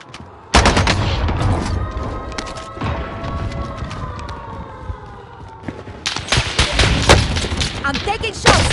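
Gunfire in a military shooter video game, repeated shots and bursts cracking loudly over a dense battle mix, with a droning siren-like tone through the middle and a heavier burst of firing near the end.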